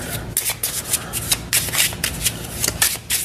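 Manifestation cards being shuffled by hand at a tarot reading, a close, loud series of riffling bursts and papery rubs repeating in quick irregular rhythm.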